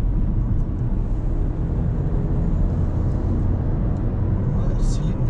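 Skoda Octavia with a 1.0 e-TEC engine idles smoothly, a steady low rumble that holds even and unbroken, heard from inside the car.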